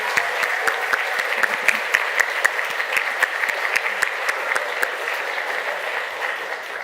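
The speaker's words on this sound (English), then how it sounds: "One more round of applause for Scoil an Loch A." A crowd at a children's Gaelic singing and céilidh event gives Scoil an Loch a round of applause, a dense, steady wash of many hands clapping that holds loud and even throughout.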